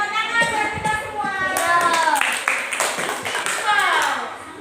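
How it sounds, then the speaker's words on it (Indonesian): An audience in a school classroom claps, a burst of scattered hand claps mixed with loud children's voices. "Tepuk tangan buat kita semua."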